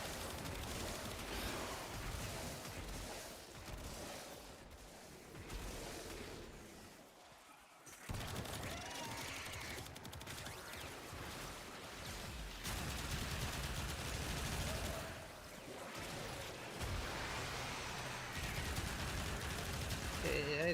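Dense bursts of gunfire fill a firefight in the video game Warframe, rapid shots piling up almost continuously with a brief lull near the middle, while someone talks over the action.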